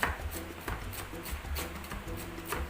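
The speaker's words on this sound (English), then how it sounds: "First, let's mince some parsley off the stem." A knife chops fresh parsley on a cutting board, a bunch of leaves minced off the stem with quick, steady, repeated strikes close by and no talk.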